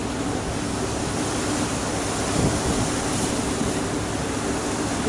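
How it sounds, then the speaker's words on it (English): Waves lap at the foot of an iceberg at sea, heard as a constant broad wash of water mixed with wind buffeting the microphone, steady and fairly loud, with no voices. "you can see the waves lapping at the foot of the iceberg"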